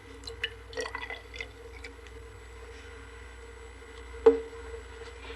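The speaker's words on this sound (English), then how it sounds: "I have water in this beaker, and I'm going to pour it into this test tube." Water poured from a beaker into a glass test tube gives a few quiet trickles and drips with light glass clinks, then a single sharper clink, faint over a steady low hum, no talking.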